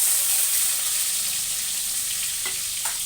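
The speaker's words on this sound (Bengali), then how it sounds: "পেঁয়াজটা একদম লাল লাল করে ভেজে নিতে হবে সুন্দর করে" Onions and black cumin seeds frying in hot oil in a kadai-style wok, a loud, steady close-up sizzle with a couple of faint clinks of stirring near the end.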